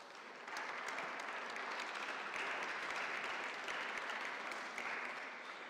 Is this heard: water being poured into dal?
no